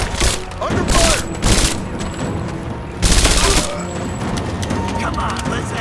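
Rapid volleys of gunfire in the video game Rise of the Tomb Raider, loud repeated bursts that come in several waves, with shouted voices between the shots.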